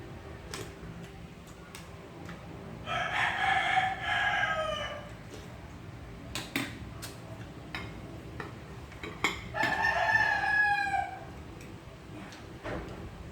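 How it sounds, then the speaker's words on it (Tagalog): A fighting rooster (gamecock) crows twice, loud and drawn-out, several seconds apart, over a faint ticking, clinking background. "Maingay yung manok ng sabong namin"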